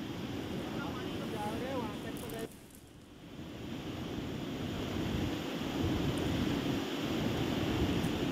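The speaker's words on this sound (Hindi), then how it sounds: "लेकिन पानी का बहाव आप देखिए कितना तेज है" Fast, heavy flood water of a river in Madhya Pradesh's Dewas rushes in a loud, continuous broadband roar with wind buffeting, dipping briefly before surging back steady and close.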